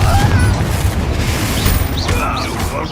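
A Bombarda explosion spell in Hogwarts Legacy goes off as a loud, close booming blast amid dense game combat noise, with bright whooshing spell sweeps trailing after.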